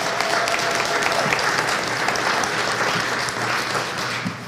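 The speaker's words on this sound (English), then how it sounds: "So give these three people a round of applause." Sustained applause from a crowd, steady clapping filling the whole stretch without any voices standing out.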